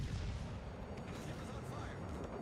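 Warship guns firing in the naval video game World of Warships Legends, deep booming rumbles rolling fairly quietly through the moment, with a voice talking over them.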